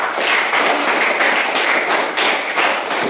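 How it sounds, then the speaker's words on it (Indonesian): A classroom of students claps together in a dense burst of applause, loud and close, swelling and easing in uneven waves for a few seconds with no talking. "Kita aplaus untuk diri kita semua"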